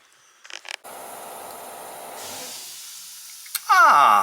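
An air compressor runs with a steady hiss and drone, loud and close for several seconds, after a few clattering knocks. It stops, and a rising whine follows.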